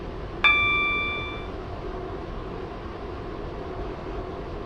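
A single bright chime rings out over a steady train hum inside the Roblox railway game Stepford County Railway, then fades away while the rumble of the moving carriage carries on alone.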